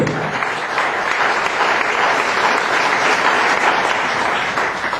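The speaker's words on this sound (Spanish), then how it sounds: "aquí lo recibimos con un fuerte aplauso" Loud, steady applause from an audience at a public hearing in Arequipa welcomes a speaker, a dense continuous wash of clapping with no break.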